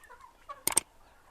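Silver Wyandotte chickens in their coop give a few soft, quiet clucks, then one brief louder squawking burst before settling back to near silence.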